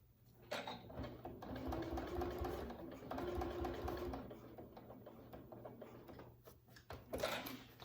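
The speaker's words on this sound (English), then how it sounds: "You turn and stitch up. Actually, I'm going to take a couple more stitches." Sewing machine stitching a range bag, running in steady close whirring bursts with a short stop and a few extra stitches, with faint voice nearby.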